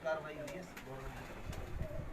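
Afridi pigeons coo on a Karachi rooftop in soft, low, repeated calls, with people talking nearby over them.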